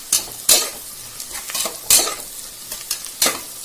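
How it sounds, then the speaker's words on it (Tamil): Onions sautéed for mutton biryani, stirred in a pan with a spoon: a soft steady sizzle broken by several sharp scraping and clinking strokes at an uneven pace, close and fairly loud, with no talking. "நல்லா பொறுமையாக வெங்காயத்தை வதக்குவோம்."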